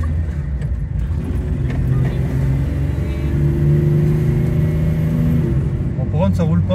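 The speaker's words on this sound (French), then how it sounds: "attendez la puissance du V8 de Dyson" A 4x4 with a V8 engine runs with a steady, rumbling drone that swells as it revs, loud and close throughout, while people talk over it.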